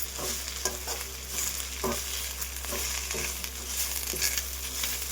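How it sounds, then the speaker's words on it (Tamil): Moringa leaves sautéing with onions in a pan over a simmer, a steady soft sizzle broken by a few clattering stirs of a spoon against the pan, close and fairly quiet with no talking. "நல்லா சிம்மில் வச்சு கொஞ்சம் வதக்கிடலாம்"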